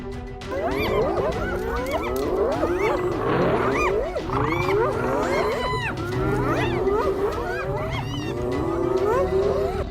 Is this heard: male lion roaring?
yes